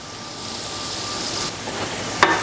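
Onions frying in a pan for a bacon cheeseburger casserole, a steady soft sizzle that thickens slightly over a couple of seconds, with a brief sharp clink near the end.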